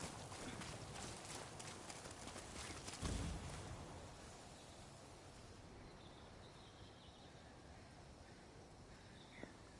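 Hooves clip-clop in quick rhythm from a horse in Ghost of Yotei, busier early on then fading under faint ambient game sound.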